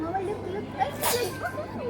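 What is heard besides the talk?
sneeze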